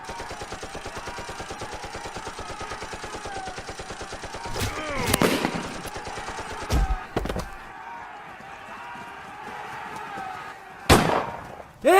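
Rapid bursts of machine gun fire rattle in a stop motion war film, a dense stream of shots followed by a few sharp separate bangs and impacts.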